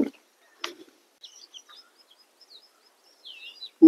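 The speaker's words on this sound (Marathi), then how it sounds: "तर आपण ऐकू शकता पशुपक्ष्यांची किलबिलाट" Birds in the Sahyadri forest of Bhimashankar sanctuary give a few faint, scattered chirps and whistles that drift in from a distance over near silence, with a couple of brief knocks nearby.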